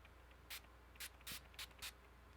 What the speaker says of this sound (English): it gives you a nice even spray